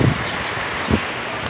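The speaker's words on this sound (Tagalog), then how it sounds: "Sobrang lakas talaga ng hangin guys." Strong gusting wind ahead of an approaching typhoon, a loud blustery rush buffeting the microphone with a brief surge near the end, no speech.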